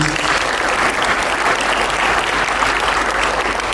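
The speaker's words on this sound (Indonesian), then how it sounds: "Bisa kata kasih tepuk tangan buat Tuhan." A church youth congregation applauds in a dense, continuous burst of clapping that fills the room at close range, steady and loud throughout with no voices standing out.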